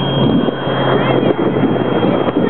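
Steady outdoor wind buffets the microphone while a toy rocket is carried away, a continuous rushing roar with faint voices underneath.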